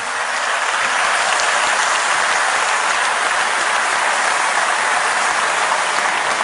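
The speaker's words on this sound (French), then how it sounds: "Ils sont par là, on peut les applaudir." Dense, loud, continuous applause from a large crowd at the WorldSkills 2023 opening ceremony in Lyon, a wash of thousands of hands clapping at once with no let-up.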